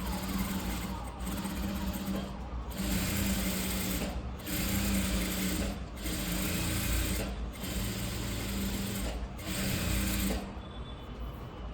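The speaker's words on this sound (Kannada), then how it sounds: "ಈಗ ನಾವು ಈ ಈ ಪಾರ್ಟ್ಗೆ ಸ್ಟಿಚ್ಚನ್ನು ಹಾಕೋಣ" A sewing machine stitches a design blouse in steady bursts of rapid mechanical whirring, running close and loud with short pauses between runs.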